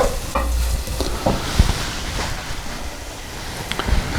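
Beef and caraway seeds fry in a pan for a Hungarian goulash, giving a steady close sizzle with scraping stir strokes and occasional sharp clicks of a utensil against the metal, and no voices.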